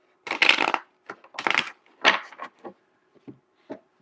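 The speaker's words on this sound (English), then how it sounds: "Let me shuffle these bad boys real quick." Tarot cards riffle and rustle in several quick bursts, a few crisp shuffles followed by softer taps as they settle, close and with no talk.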